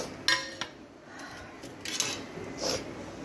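A spoon clinks against dishes while food is served at a home birthday meal, with a few sharp metallic taps and light scraping close by in a quiet room.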